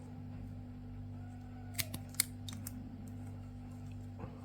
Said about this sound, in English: and then you can cut the ends off.